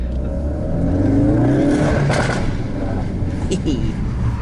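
A Ford Focus RS Mk3 with a Mountune V3 cat-back exhaust revs in a deep, rising engine drone with a pop near the end, close and loud, while someone talks over it.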